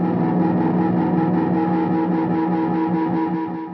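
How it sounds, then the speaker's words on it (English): A 1960s Japanese Mosrite-copy electric guitar from a budget department store, built in a furniture factory, is strummed with a thick, sustained distorted chord that rings loud and close before fading slightly at the end. "for a budget department store guitar built in a furniture factory in 1960s Japan, this sound will do just fine for me"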